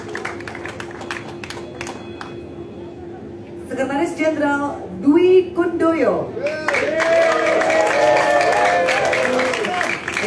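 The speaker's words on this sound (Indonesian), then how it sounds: "kita berikan tepuk tangan ke Karen." At a Ganjarian declaration event, an audience claps while an announcer calls out officeholders' names. Scattered clapping comes first, then the announcer's voice carries over it, and a fuller round of applause swells near the end.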